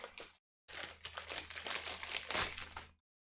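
Crinkly plastic packaging on a One Piece OP12 card display being torn open and handled, a dense run of close, loud crackling and crumpling after a brief pause, then silence.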